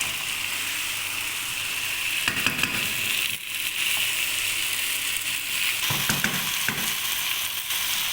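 Potato koftas sizzle steadily in a curry pan while a spoon turns them gently, adding soft scraping bursts over the continuous close frying hiss. No one speaks.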